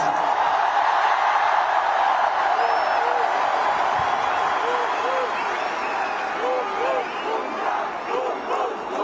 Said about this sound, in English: A huge round of applause to Jasprit Bumrah, please